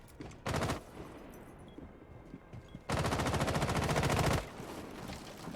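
Gunfire in a Rainbow Six Siege college esports match: two loud bursts of rapid automatic fire, a short one early and a longer sustained volley later, over quieter background game ambience.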